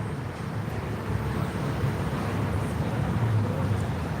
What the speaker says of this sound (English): Man, that was a gust that knocked my phone over